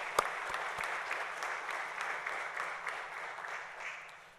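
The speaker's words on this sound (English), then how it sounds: "give them a round of applause for their support during this time" Steady applause from a seated audience of families at a police academy graduation ceremony, dense continuous clapping filling the hall for several seconds without talk.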